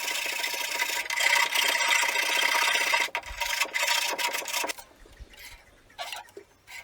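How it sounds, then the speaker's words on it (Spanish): A hand file rasps over a wooden bench vise guide in steady back-and-forth strokes for several seconds, close and clear with no talk, then tapers to a few quieter scrapes. "voy a comer la parte de abajo y la parte de arriba un poco con la lima"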